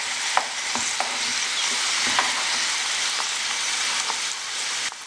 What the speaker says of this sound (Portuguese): Agora que eu deixei fritando um pouquinho, já vou virar.